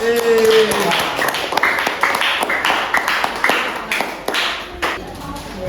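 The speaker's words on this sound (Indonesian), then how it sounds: "kita beri tepuk tangan" Students in a chemistry class clap for quiz winners, a sparse, uneven patter of individual claps up close that tapers off.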